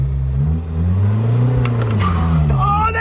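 A heavy car launches with a little wheel spin and pulls hard, its engine note rising in a steady loud drone, with a voice talking over it near the end.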